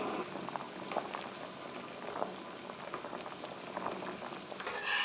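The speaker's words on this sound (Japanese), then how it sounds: "お湯が沸いたのでパスタを茹でていきます" Pasta boiling in a pot of water on a stove, steady bubbling and gentle simmering texture with small pops and splashes, moderately near and continuous.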